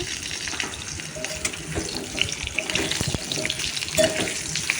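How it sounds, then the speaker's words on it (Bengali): Long-cut potato slices frying in oil in a pan for a rohu fish curry, a dense close sizzle broken by irregular stirring knocks and scrapes, with no one speaking. "আলুটা তেলের মধ্যে দিয়ে দিয়েছি"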